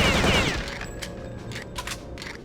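Rapid bursts of gunfire crackle in quick succession in the video game Return to Castle Wolfenstein (2001), a fusillade fading slightly, with sharp repeated shots over a dense background.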